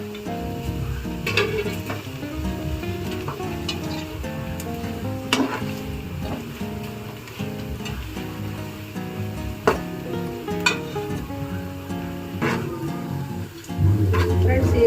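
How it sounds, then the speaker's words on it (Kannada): Onions sizzle and fry steadily in a pan for a home-cooked biryani, a continuous close crackle with occasional stirring scrapes and faint background voices. "ಈರುಳ್ಳಿ ಎಲ್ಲ ಚೆನ್ನಾಗಿ ಫ್ರೈ ಆಗ್ತಾ ಇದೆ"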